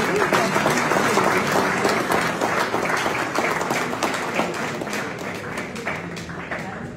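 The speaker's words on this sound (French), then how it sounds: "applaudissements" An award ceremony audience gives sustained, loud applause at the presentation of a media leadership award, with a steady wash of clapping from many hands and a faint voice mixed underneath.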